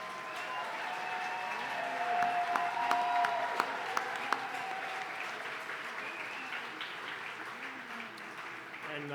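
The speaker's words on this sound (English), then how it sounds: "Let's give them a round of applause." Sustained applause from a gala audience at the Opportunity Partners 2023 event, a dense steady wash of many hands clapping with faint crowd murmur and some voices beneath, holding for roughly nine seconds.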